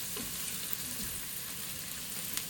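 Ingredients for mutton yakhni pulao fry steadily in a pan, a continuous close sizzle with soft crackle that holds an even level throughout, with no voices.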